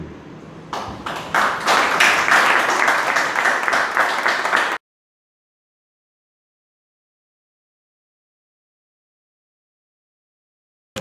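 Applause at a public presentation in Chamical, La Rioja, with sharp individual claps at first, then a burst of dense clapping from a crowd lasting about four seconds before cutting off abruptly into silence.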